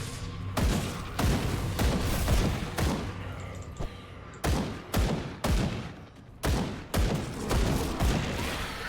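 A character fires repeatedly in the video game Grim Dawn, loud sharp shots in quick uneven bursts with rumbling booms and brief pauses between volleys.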